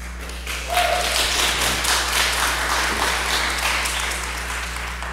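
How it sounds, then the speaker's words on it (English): A church congregation claps in praise during a Sunday morning worship service: a dense, loud wash of many hands starting abruptly and continuing steadily without talk. "give the Lord a hand clap of praise for what he's done for you in your lives"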